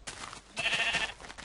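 A sheep in the video game Minecraft gives a single short, close bleat, rising briefly and fading within a second and a half.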